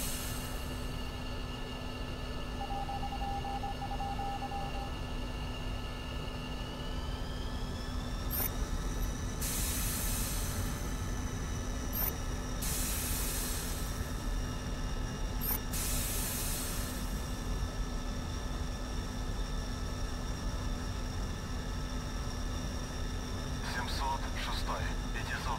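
MiG-21Bis jet engines roar steadily in a DCS flight simulation as the jets take off, a constant loud hiss and whine with brief bursts of rushing noise as aircraft pass.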